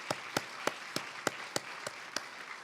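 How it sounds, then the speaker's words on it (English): Audience applause at a finance and capital markets conference, heard as a light, regular run of about nine distinct handclaps, faint and sparse rather than a full ovation. "Please join me in giving them a big round of applause."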